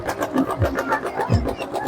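A motorcycle engine at a village fair catches and runs with loud, close, rhythmic low thumping pulses, sounding rough and uneven as it settles.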